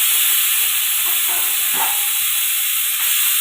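Tomato and green chilli go into a hot pan of cluster beans and potato, producing a loud, continuous steamy hiss that stays steady and close throughout.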